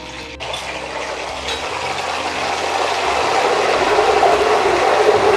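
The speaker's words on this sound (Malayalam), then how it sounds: "അപ്പോൾ അതിൽ നിന്ന് 1 സ്പൂണ് ഉപ്പ് വെള്ളം നമ്മളതിലേക്ക് ചേർത്ത് കൊടുക്കുകയാണ്." Salted water splashed into hot oil where Kerala-style banana chips are frying, a steady bubbling sizzle that swells and grows denser over a few seconds, close and continuous with no voices.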